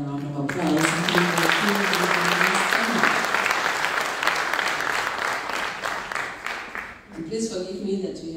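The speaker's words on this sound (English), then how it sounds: "Please let's give His Excellency another round of applause." An audience gives a loud round of applause for the President of Zambia, Hakainde Hichilema, swelling then fading near the end as a voice begins speaking over it.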